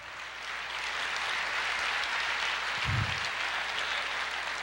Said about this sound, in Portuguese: Amém, aplauda o Senhor